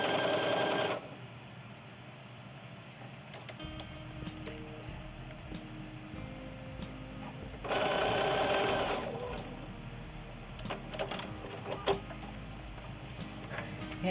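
A sewing machine stitches down the long edge of quilt medallions in two short loud runs of rapid, even needle chatter, separated by quieter handling and clicks.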